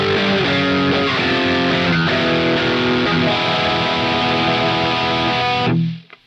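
Distorted electric guitar run through a Bias FX 2 Pro amp simulator on a rock preset, a warm, bass-heavy sustained riff with layered harmonics playing loud and steady before cutting off abruptly near the end.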